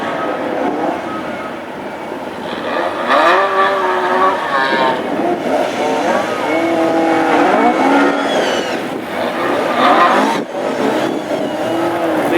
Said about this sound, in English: Pace car leading them round with Trevor Harris and Cara Boyd leading the